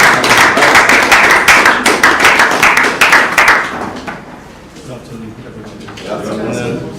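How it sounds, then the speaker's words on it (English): A graduation ceremony audience bursts into a dense round of clapping that thins out after a few seconds, leaving scattered claps and a voice starting to speak. "Round of applause,"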